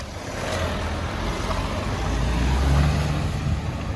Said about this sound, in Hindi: नवल भाई गाड़ी पावर में चढ़ा दी है गाड़ी